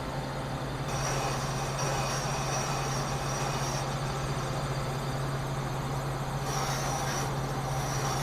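A valve seat cutter cuts a valve seat on a Honda B-series engine head: a steady mechanical grinding hum with a constant low drone and hissy scraping, continuous for several seconds, fairly close, no speech.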